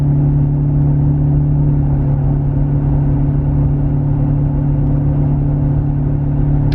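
Exhaust drone from a Toyota Tacoma cruising at 30 mph while holding its gear: a loud, steady low hum with a constant droning tone under road noise, unchanging throughout.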